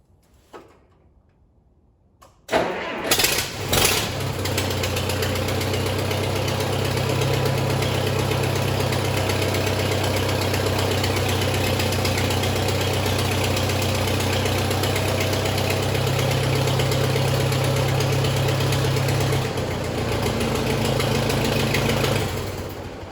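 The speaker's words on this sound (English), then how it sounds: "I'm going to fire the tractor up." After a few clunks, an Allis-Chalmers D17 tractor engine starts and settles into a loud, steady low idle with a constant droning hum that continues until a brief dip near the end.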